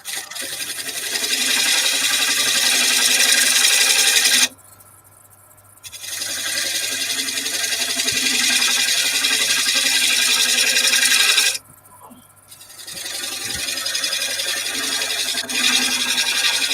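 A woodturning gouge cuts wood on a lathe and throws fine shavings, making a loud, steady scraping hiss in long runs broken by two brief quiet gaps.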